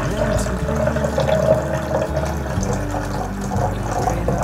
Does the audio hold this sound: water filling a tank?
yes